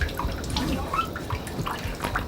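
A tap runs water in a public hospital washroom in Kingston, Jamaica, producing a continuous hissing, splashing stream with faint dripping, moderately loud and close.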